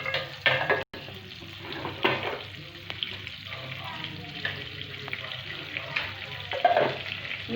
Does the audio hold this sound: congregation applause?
no